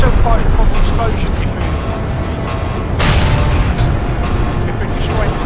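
Tanks explode in the video game Crysis Remastered, with loud, dense booming blasts and a sharp burst near the middle, all over a constant rumbling background.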